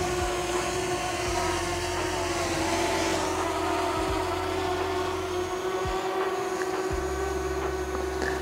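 Xiaomi Fimi X8 Mini drone flying away in dronie mode: a steady whining propeller hum with a constant tonal buzz, moderately loud and continuous throughout, with low rumbling wind bumps and no talk.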